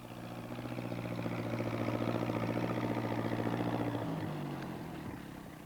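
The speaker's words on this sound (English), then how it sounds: "He's going to try to get through with his tractor." A tractor engine drives steadily in a cartoon scene, a continuous droning hum that swells slightly and holds at a constant pitch before shifting lower near the end, with no talk over it.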